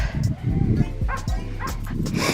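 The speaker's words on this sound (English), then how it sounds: "Hear a dog barking out in the distance." A dog barks and yips repeatedly out in the distance along a hiking trail near the top of a rocky climb in Sedona, Arizona, the short barks sounding fairly clear over outdoor wind noise.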